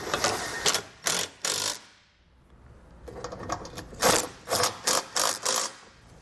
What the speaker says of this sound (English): Now we can come back with a 13 millimeter socket and snug up all of our hardware.